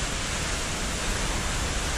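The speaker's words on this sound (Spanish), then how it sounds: "Sale agua." Water pours steadily out of the ground at a spot reached on a round-the-world motorcycle trip, a continuous loud broadband rush like a small waterfall, near and unbroken, with no voices.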